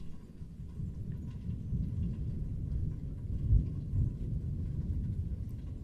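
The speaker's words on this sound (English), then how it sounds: "A storm just blew through. I'm sorry you missed the heart of it. You may be able to pick up the rumblings of it in the background." Low thunder from a passing storm rumbles steadily in the distance, a continuous deep roll with one slightly stronger swell, and no voices over it.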